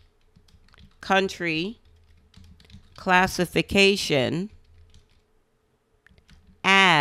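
Computer keyboard typing in short clicking bursts, sitting mostly under a voice as he talks through the steps.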